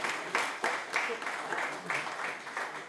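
An audience at a community gathering claps in a moderate, uneven round of applause, with soft swells of hands that stay fairly faint and distant.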